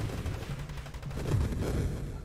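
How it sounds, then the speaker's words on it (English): Fireworks in the space shooter Nova Drift pop and crackle in a dense, rapid volley of bursts, steady and fairly loud throughout with no voices. "Luckily, I brought the fireworks, so we can celebrate in moderate style"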